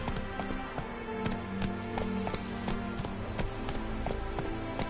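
Horse hooves galloping in The Witcher 3: Wild Hunt, a fast, steady clip-clop rhythm of repeated close hoofbeats throughout, clear and prominent with no talk over it.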